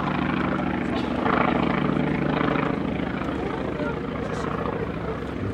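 Boeing P-26A Peashooter vintage fighter flying at the Flying Legends air show at Duxford, a steady droning engine roar that swells briefly and then eases, with talk mixed in.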